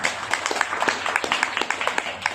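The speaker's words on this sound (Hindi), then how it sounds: "नीम करौली बाबा के लिए तालियां हो जाए" An audience claps for Neem Karoli Baba at a devotional gathering, a steady, lively patter of many hands that holds for a couple of seconds with no voices on top.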